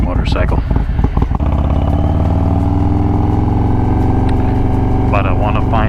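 Close, loud idle of a 2020 Harley-Davidson Low Rider S with an S&S 475 cam: a deep, choppy exhaust rumble with a quick rev at the start and a faint rise toward the end.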